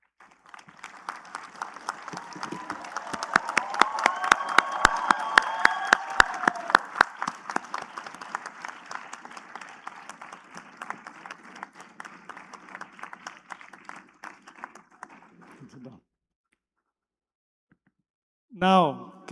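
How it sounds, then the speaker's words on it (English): Graduates at a university convocation give their parents a long round of applause that swells to a full, echoing ovation in a large hall, then thins and fades out, with a brief voice after a pause. "Please, graduates, stand up and give your parents a big round of applause."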